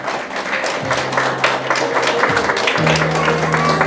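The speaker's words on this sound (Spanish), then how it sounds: "Fuerte el aplauso para ellos, por favor." Applause rises from the family's guests at a quinceañera celebration, many hands clapping continuously and fairly loud, with a sustained musical tone and some murmured voices under the clapping.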